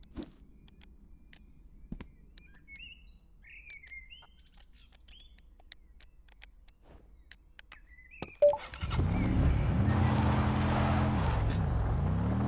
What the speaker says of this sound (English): So this is just a little Wreck Rally buggy.